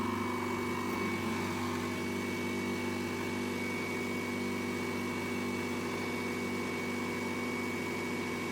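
A PlayStation 3 console's cooling fan spins at full speed during a fan test, a steady, unbroken whirring hum with faint tonal whine that holds constant throughout, alone with no talking.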